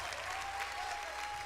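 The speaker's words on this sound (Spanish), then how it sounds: "Denme un aplauso" Even, sustained applause from an audience at a religious talk, fairly faint and distant, with a thin steady tone running underneath.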